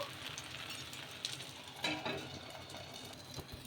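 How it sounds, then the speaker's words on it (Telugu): A ladle of batter, made with curd, sizzling softly as it cooks on a pan over medium heat, a steady low crackle running throughout with a couple of brief clinks from utensils. "ఒక గరిట పిండి అయితే వేసుకోవాలి వేసుకొని మీడియంగా పెట్టుకొని కాల్చుకుందాము"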